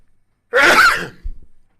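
A single sharp sneeze bursts out alone, followed by a brief low snort or sniff.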